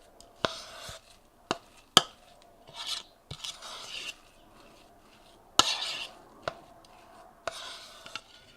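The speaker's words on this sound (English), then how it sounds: "We just want to stir that till it's nicely blended." Nut flour bread dough is stirred in a bowl, with a spoon knocking and scraping the sides in a series of sharp clinks and rasping strokes, close and alone.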